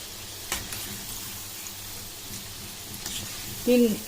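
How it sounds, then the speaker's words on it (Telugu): Jowar flour pakodas deep frying in oil make a soft, continuous sizzle with a few louder crackles and spatula touches. A brief voiced sound breaks in near the end. "ఇప్పుడు మనం పకోడీలు మంచి కలర్ వచ్చే వరకు వేయించుకొని పెట్టుకోవాలి."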